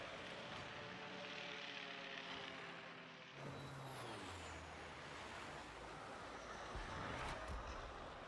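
Aircraft engines droning in a naval warship battle game, with a harmonic whine that rises then sweeps down as a plane passes, faint and steady, no talking.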